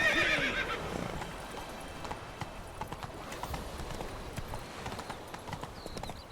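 Roach, a horse in The Witcher III, gives a sharp whinny at the start, then trots on with steady clip-clop hoofbeats under faint ambient game sound.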